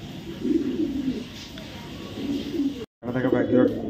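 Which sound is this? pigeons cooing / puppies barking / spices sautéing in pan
pigeons cooing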